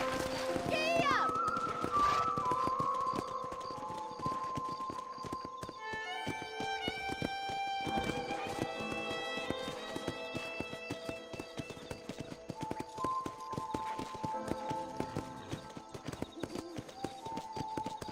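Hoofbeats of a galloping horse in Red Dead Redemption keep up a steady, rapid clip-clop throughout, with whinnies, a rider's call and game music layered over it.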